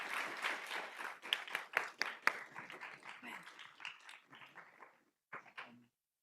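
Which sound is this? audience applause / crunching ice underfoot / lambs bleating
audience applause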